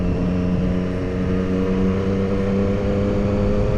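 Triumph Street Triple 765R motorcycle fitted with an SC Project exhaust with the baffle in, riding on the road: a steady, fairly subdued engine drone with a smooth even hum throughout, no speech.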